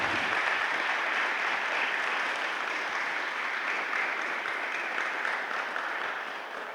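An audience applauds steadily for several seconds, a dense wash of clapping that slowly tapers off at the end.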